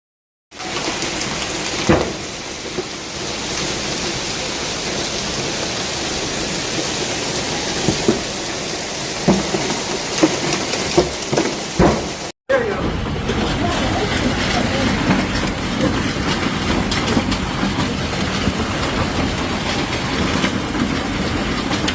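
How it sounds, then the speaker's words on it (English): Golf ball size hailstones pound down during a storm over Johannesburg, a dense, continuous loud clatter like heavy rain drumming on surfaces, with a brief cut midway and no voices. "the unearthly clatter of epic hailstones falling over Johannesburg"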